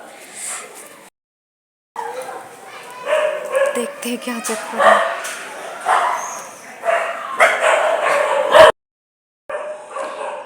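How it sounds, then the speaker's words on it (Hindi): Several neighbourhood dogs bark in loud repeated bursts heard from a rooftop, with yips between volleys and short pauses, while someone speaks over them. "आज तो डॉग्स बहुत ही भौंक रहे हैं"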